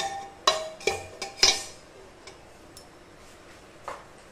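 A metal stand is set into a pressure cooker holding a little water for steaming shrimp, giving a few sharp metallic clinks and taps close up, then fainter scattered knocks.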